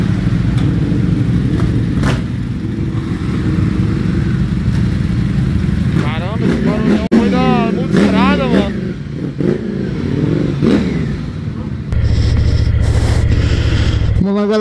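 Ducati motorcycles at the Circuito Panamericano heading out onto the race track, engines idling and rumbling nearby with a louder rev near the end, while someone talks over them.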